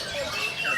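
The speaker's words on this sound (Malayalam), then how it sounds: "ജാവാദ്വീപിന്റെ പല ഭാഗങ്ങളിലും വളർത്തുപക്ഷികളുടെ മാർക്കറ്റ് പ്രവർത്തിക്കുന്നുണ്ട്." Birds squawk at a pet bird market in Java, Indonesia, with a brief burst of shrill, close calls overlapping one another.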